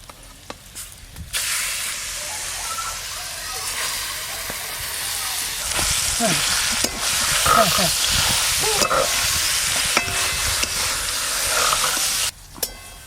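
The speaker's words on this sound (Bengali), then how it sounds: "রসুন কুচি আর শুকনো লঙ্কা একটু ভালো করে ভাজা ভাজা করব" Chopped garlic and dried red chilli fry in a wok, a steady broadband hiss and sizzle that swells after the first second and holds loud and close, with faint spoon scrapes and clatters over it, then drops off near the end.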